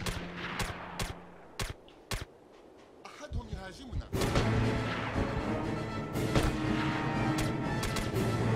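Gunfire in SOCOM: U.S. Navy SEALs on PS2, several sharp separate shots early on, then a dense loud barrage of shooting and crashing impacts, with a voice speaking amid the action.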